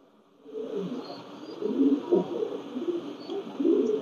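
Pakistani teddy pigeons coo in soft, low, rolling murmurs that overlap almost continuously. The birds sound close and moderately quiet, with faint high chirps in the background.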